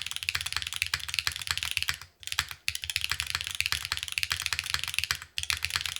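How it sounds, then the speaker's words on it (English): A Qi65 mechanical keyboard with clacky alpha switches being typed on at a fast, steady pace, dense close-up clacking that continues almost without a break, with two brief pauses. "I like the clack that I'm getting from the alphas though"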